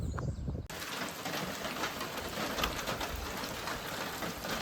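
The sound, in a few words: rain falling on a hiking trail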